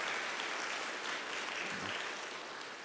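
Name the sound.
welcoming applause in church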